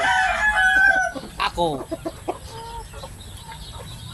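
A rooster crows once up close, a loud, drawn-out call at the start, followed by softer clucks while someone speaks nearby.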